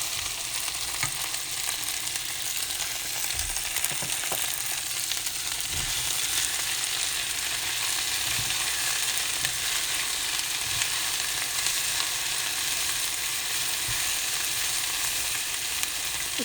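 Okra sizzles steadily in hot oil in a pan for restaurant-style bhindi sabzi, a dense continuous frying hiss with occasional soft stirring knocks, close and even throughout.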